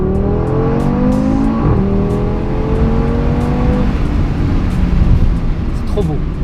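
An Audi RS3 engine accelerates hard, its loud close revving pitch climbing and shifting through gears with a strong, steady roar throughout.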